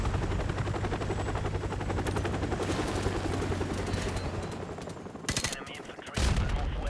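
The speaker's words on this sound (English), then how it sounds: "I don't think that's our chopper." A helicopter in the Call of Duty: Modern Warfare Remastered video game, heard as a continuous rotor rumble mixed with bursts of gunfire, then quieter moments.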